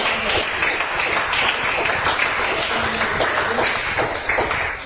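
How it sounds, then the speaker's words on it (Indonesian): A classroom group claps after a student's speech in an Indonesian-language class, a continuous, fairly loud patter of many hands with scattered taps and thumps, no talking. "tepuk tangan dulu"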